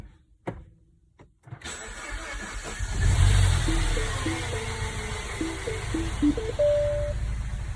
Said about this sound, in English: Gotta love the sound of Mini Cooper makes.